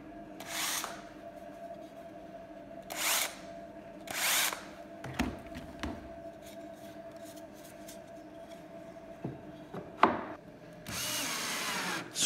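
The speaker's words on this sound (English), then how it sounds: "A countersink drill bit is then used to create a seat for the screw head" A drill with a countersink bit whirs in several short bursts into wood, each spin-up lasting a second or so, with clicks and handling sounds between and a longer final run.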